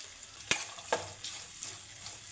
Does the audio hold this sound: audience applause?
no